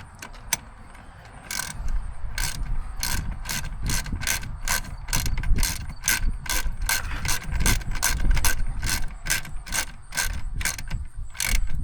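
A ratchet tightens a stud on the 2.3L engine of a 2021 Ford Explorer during spark plug replacement, producing loud, close, evenly spaced clicking strokes in a steady rhythm throughout.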